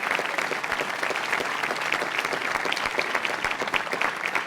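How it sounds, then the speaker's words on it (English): Dense, sustained applause from an audience at a city council ceremonial in Las Vegas, honoring youth soccer teams; steady clapping from many hands throughout, moderately loud and even, with no speech over it. "Please give them a nice round of applause."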